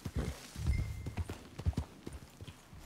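Horse hooves clip-clop in Red Dead Online, a steady run of sharp, close hoofbeats on hard ground with a faint low rumble behind them.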